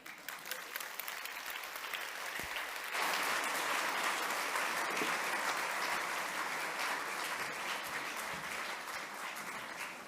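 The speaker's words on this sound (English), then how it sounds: "I think applause would do." Sustained applause from a conference audience after a talk on mental health care, a dense, fairly loud clapping that swells after the first few seconds and continues steadily for about ten seconds.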